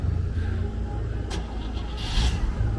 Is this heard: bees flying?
no